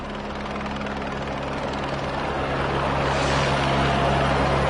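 A National Police helicopter in flight gives a steady, loud rotor and engine drone that holds without a break and grows slightly louder toward the end, with no voices.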